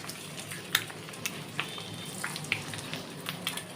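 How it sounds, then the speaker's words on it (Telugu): Four eggs fry in oil in a pan for leafy-greens egg fried rice, making a soft, continuous sizzle with scattered sharp pops and crackles, fairly faint and unaccompanied by speech. "ఆయిల్ వేసుకొని ఇప్పుడు 4 కోడిగుడ్లు ఇట్లా పగలగొట్టి వేసేసుకోవాలి."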